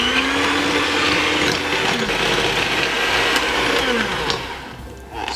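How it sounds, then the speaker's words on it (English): An electric mixer whisks eggs with jaggery for carrot muffins, a steady loud mechanical whir running throughout with slight pitch shifts as the beaters move through the batter. "So I'll just go ahead and whisk with the electric mixer"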